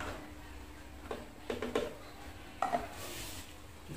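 The lid of a container of washing water, kept for making organic fertilizer, is pressed shut, giving two quiet clusters of clattering knocks and scrapes separated by a short pause.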